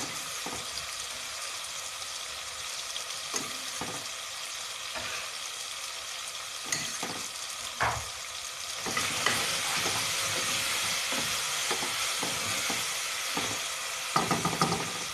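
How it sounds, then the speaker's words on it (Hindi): Ginger and garlic sizzle in hot oil in a pan while cooking fish biryani, giving a steady close frying hiss broken by occasional stirring scrapes and clinks, with no talking. "अब डाल देंगे आप अदरक लहसुन।"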